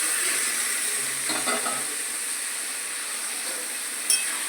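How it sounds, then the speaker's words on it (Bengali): Meat tipped into a pan of fried onions sizzles with a steady, close hiss that holds evenly throughout, with a brief clatter near the end and no voices. "মাংসটা ঢেলে দিলাম।"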